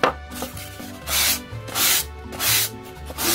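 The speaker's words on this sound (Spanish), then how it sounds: "vamos a licar nuestra campana para quitarle el brillo." Close-up hand sanding of a styrofoam bell to dull its shine before painting, heard as four or five distinct scratchy rubbing strokes in a slow, even rhythm with no voices.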